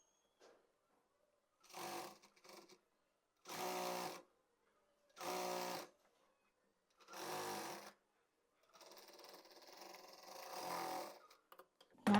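Sewing machine stitching palazzo panels runs in five or six loud bursts of a second or so each, separated by near silence, with the final stretch longer and a little rougher.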